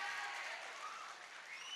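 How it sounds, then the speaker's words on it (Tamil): Audience applause at a Tamil comedy stage speech, a steady dense clapping wash from a seated crowd that holds evenly for the whole stretch with no voices over it. "நல்லா சந்தோஷமா கைத்தட்டுங்க."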